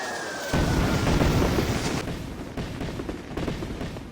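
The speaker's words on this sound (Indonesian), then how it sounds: "granat itu pun langsung meledak." A grenade blast in an animated fantasy battle, a sudden loud boom that rolls into a dense, rumbling roar and slowly tails off over several seconds.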